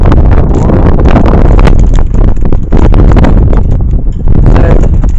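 Strong wind buffets a microphone outdoors, making loud continuous rumbling and blustery roar with irregular gusts, briefly easing for a moment before surging again.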